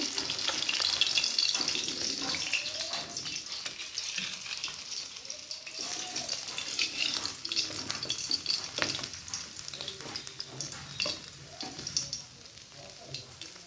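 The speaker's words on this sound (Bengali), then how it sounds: "মাছটা ভাজা হয়ে গেছে, আমি তুলে নেব।" Fish crackles and sizzles in hot oil, a dense, steady hiss with occasional soft scrapes, close by and uninterrupted.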